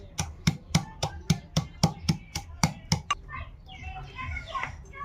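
A pestle pounds ginger and garlic together for chicken, about eleven sharp, evenly spaced thuds close up, then a few seconds of softer rubbing and scraping.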